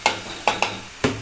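Onion frying on a gas stove over medium heat, a steady soft sizzle broken by four sharp stirring clanks spaced irregularly, close and fairly loud with no talk.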